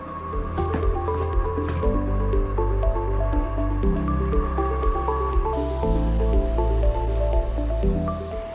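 A DEEBOT T90 Pro Omni robot vacuum mops a wet floor, its roller scrubbing with pressurized fresh water in a continuous wet squishing, dripping churn over a steady motor hum, close and loud with no talk.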